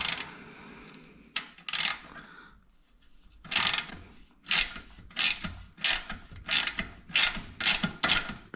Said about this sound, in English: we're just going to loosen these, move it up to here. Size 12 spanner and size 12 socket.